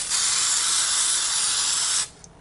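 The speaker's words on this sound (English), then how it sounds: "I'm going to spray front first, let that dry for about an hour" A steady, close hiss of aerosol sealant sprayed onto a polymer clay dish runs for about two seconds, then cuts off abruptly.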